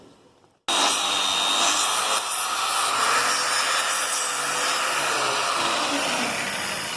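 A cutting disc on a power tool slices through a weld on a deckover trailer, a loud steady grinding whine that starts abruptly after a moment of quiet and runs continuously, close by.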